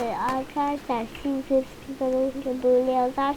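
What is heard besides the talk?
No everyday noises stand out.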